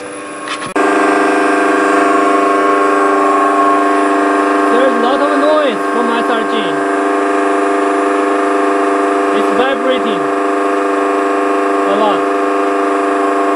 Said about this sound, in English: Such oscillating torque is causing the noise from SRG.